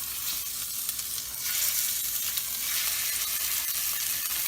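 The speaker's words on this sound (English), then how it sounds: "Now we're just going to fry these off in batches," Meat for taco night sears in batches in a hot pan, giving a steady, bright hiss of sizzling fat that swells slightly midway, with no talking.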